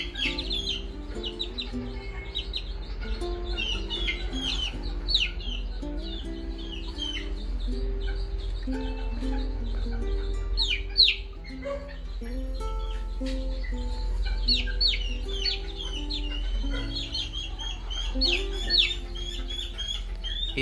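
Northern bantam chickens, a cock and a hen just over two months old, cluck and chirp in a yard, with frequent short calls scattered over a steady low hum.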